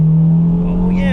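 An Acura RSX engine revving hard into VTEC, a strong steady drone with a rising pitch heard from inside the car, loud and close, running for just over a second.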